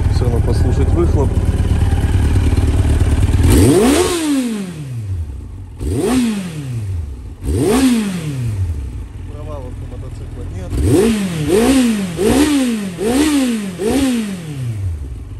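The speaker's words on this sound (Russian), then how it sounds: "Далее немного погазуем на мотоцикле." Yamaha FZS 1000 motorcycle engine at idle, then blipped through a series of sharp throttle revs, first single spaced bursts and then a quick run of repeated revs, loud and close with exhaust rumble.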